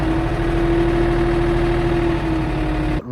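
A tractor engine runs at a steady idle, a loud constant drone with a strong tonal hum, then cuts off abruptly near the end.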